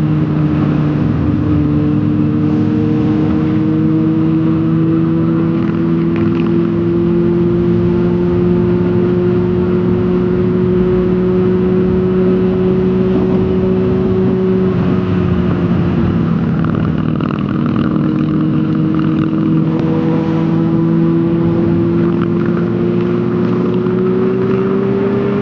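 A motorcycle engine runs steadily with a sustained droning hum that shifts in pitch as the revs rise and fall, loud and close with no talk over it.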